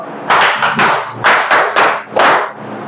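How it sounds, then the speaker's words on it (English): A classroom of students gives a rhythmic power clap, a patterned series of about seven loud, sharp group claps in quick bursts, close and with no talking. "Can you give us a power clap?"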